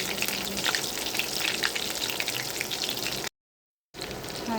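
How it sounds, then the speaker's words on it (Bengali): Pieces of golden (Sonali) chicken fry in a pan with a loud, crackling sizzle and bubbling spatter, cut by a short total dropout before the sizzling resumes. "মুরগিটাকে ভেজে রান্না করছি"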